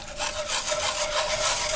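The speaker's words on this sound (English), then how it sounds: "we're going to stir and stir and stir gently" A whisk stirs sausage gravy in a pan, making a steady, soft scraping and rubbing sound against the pan bottom, close and continuous with no voices.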